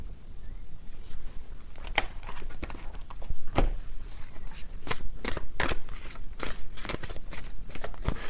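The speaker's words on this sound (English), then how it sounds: "Let me get a few more tarot cards here." Tarot cards are shuffled close up with continuous papery riffling and sharp slaps as the deck is handled, steady and fairly loud, without talk.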